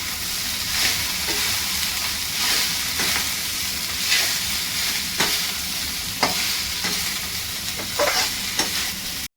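Rice with chili masala is stirred in a pan, giving a continuous sizzle with repeated scraping strokes of a spoon against the metal at a slow, uneven pace, close up, with no speech.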